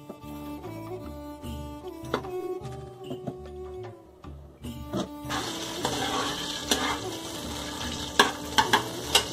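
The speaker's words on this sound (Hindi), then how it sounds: "अब इसमें डालते हैं घी" Ghee heats in a hot pan on a home stove while cauliflower and potato curry with chicken is being prepared, starting with scattered utensil clinks and scrapes, then breaking into a steady, close sizzle with sharp spits and crackles.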